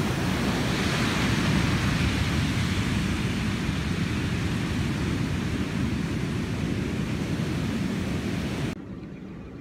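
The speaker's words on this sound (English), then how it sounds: "take in the beautiful black sand beach" Surf rolling onto a black sand beach in Bali, a dense, steady roar of breaking waves with some wind on the microphone, continuous for about nine seconds before dropping off abruptly.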